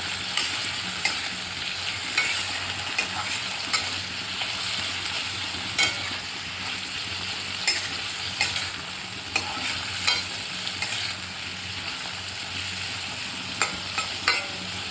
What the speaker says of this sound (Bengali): এবারে খুব ভালো করে এগুলো সবকে ভেজে নিতে হবে।